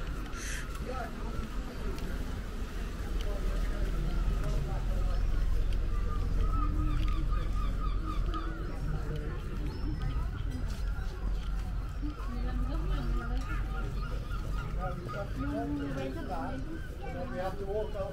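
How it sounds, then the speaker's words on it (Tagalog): Seagulls call repeatedly at St. Ives, a seaside town in Cornwall, with their cries rising and falling amid steady outdoor ambience and people talking nearby. "So pakinggan nyo lang mga tilaok ng seagull."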